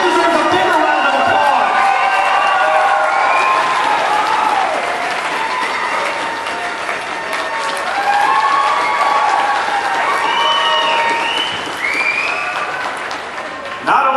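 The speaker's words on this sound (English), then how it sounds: "That deserves a bigger round of" Audience at an A-Kon convention opening ceremony breaks into sustained applause with cheering, a dense, loud clapping crowd filling the hall for the whole stretch.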